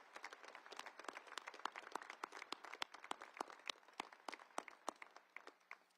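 Audience at a US Air Force Academy commencement ceremony claps steadily in a sustained round of applause, distant and fairly faint, individual claps distinct over a continuous patter.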